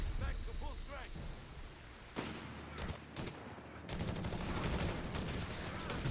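Heavy machine gun fire in a Company of Heroes 3 match, heard as rapid, dense bursts of automatic gunfire that swell and fade, mixed with scattered distant shots and battle noise, while a commentator talks over it.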